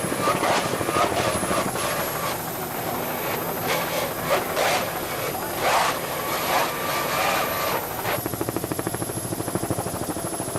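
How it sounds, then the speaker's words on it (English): A race boat powered by Mercury outboard motors roars past at full throttle, a loud sustained high-pitched engine whine with surging passes at a Chicago air show. "He's really putting those Mercury motors to the test."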